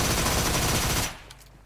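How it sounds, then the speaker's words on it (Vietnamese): Sustained automatic gunfire in the video game PUBG Mobile, a dense, loud burst of rapid shots that cuts off abruptly, leaving a few faint distant pops after. "Bên kia mình nghe có tiếng súng nữa"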